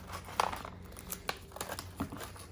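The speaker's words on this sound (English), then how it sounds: "And tape that down." Tape being torn and pressed down onto crinkly material while building a basic solar oven gives a few brief, close crinkles and sticky pulls, quiet and with no talking.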